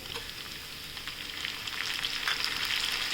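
Tomatoes sautéing in a pan for a lima bean curry, a steady hissing sizzle that grows slightly louder over a few seconds, close and alone without speech.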